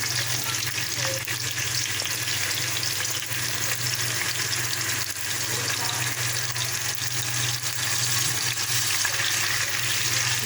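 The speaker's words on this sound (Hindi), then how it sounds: "मीडियम आंच पे हम इसको भूनेंगे।" Chicken jalfrezi masala with ginger-garlic paste and a splash of water sizzles steadily in a pan over medium heat, a loud, continuous close-up frying hiss with occasional stirring, no voices.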